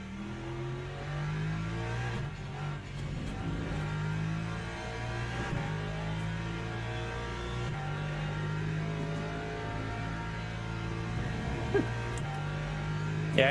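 Race car engine in the video game Le Mans Ultimate, driven to warm the tyres: a steady, close engine drone that rises in pitch and drops repeatedly at gear shifts, continuous throughout.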